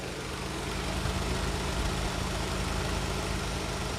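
A Nissan March air-conditioning motor fan running normally, heard up close as a steady, even whoosh and hum of rushing air with no knocking or wobble, constant in level throughout.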